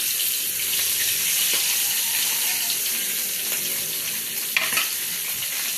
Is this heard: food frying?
yes